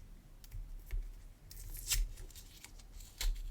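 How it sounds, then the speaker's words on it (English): A lock key from a Picksologic Streamliner lock is unwrapped from its tight wrapping, close, soft crinkling and rustling in a few short bursts, faint overall with no talking. "It's been mummified. I always feel bad unwrapping these."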